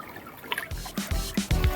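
Water rushes fast through a forest stream, a close, splashing, gurgling flow with irregular surges and no talk over it.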